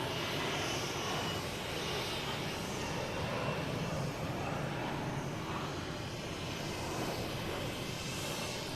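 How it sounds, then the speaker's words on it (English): A Cessna light aircraft's engine drones steadily at a distance near Boston Logan Airport, a continuous broadband hum that holds level throughout with no talk. "There it is, that's Cessna."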